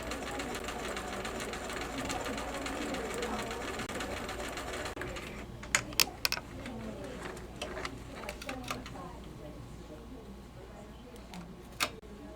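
A sewing machine runs steadily while stitching the shoulder seam of a wrap-around yoke, a continuous whirring hum for about five seconds, followed by scattered clicks and taps as the stitching stops.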